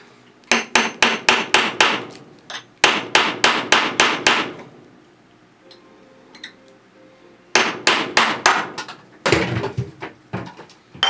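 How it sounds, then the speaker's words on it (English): A hammer strikes a steel punch to drive an old rivet out of an AK parts kit. Loud, close metallic blows land in quick rhythmic bursts of about six to eight hits, with short pauses and faint handling clatter between the bursts. "my punch is just gonna push it through with the hammer"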